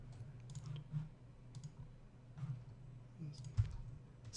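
A computer mouse clicks a few times while working in Modo 3D software, soft, sparse, close clicks over a steady low hum.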